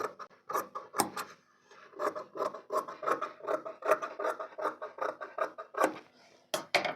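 Scissors snip through fabric at the edge of a V deep back blouse neck being stitched, a close, steady run of short rasping cuts with brief pauses and no talking.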